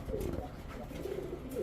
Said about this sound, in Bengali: 27 কিলো ব্যাক করা একটা সবজি গিরিবাজ কবুতর।